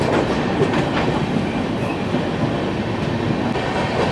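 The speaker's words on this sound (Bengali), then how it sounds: "পাশ দিয়ে ক্রস করছে ডিব্রুগড় নিউ দিল্লি রাজধানী এক্সপ্রেস।" The Dibrugarh–New Delhi Rajdhani Express rushes past alongside a moving LHB train, giving a steady loud roar with rhythmic clickety-clack from the wheels for the whole stretch and no talking.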